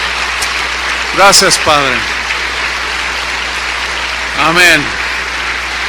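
Congregation applause in a Spanish-language church service, a broad steady wash of clapping running throughout with a preacher's voice speaking over it twice.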